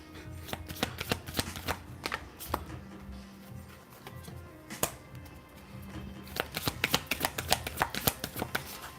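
A Moonology oracle card deck is shuffled by hand in repeated quick riffles and flutters, close and fairly soft, with brief pauses between bursts.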